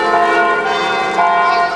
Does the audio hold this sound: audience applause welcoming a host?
no